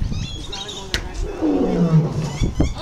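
A lion lets out a deep, drawn-out roar that swells and fades over a couple of seconds, heard close by with people talking around it.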